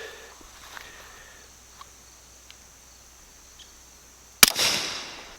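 A single shot from a suppressed Lipsey's Retro Glock P80 pistol loaded with LAX reloads, one sharp muffled crack late on followed by a short fading tail, with faint ambient ticks beforehand.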